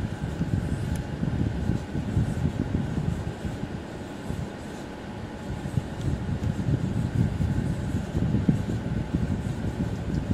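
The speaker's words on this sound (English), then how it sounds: "And now I'll go ahead and switch this over to high." A TaoTronics 1500W ceramic oscillating tower heater switched to its high setting gives a steady, close fan whoosh with a low rumbling hum that stays constant throughout, with no talking over it.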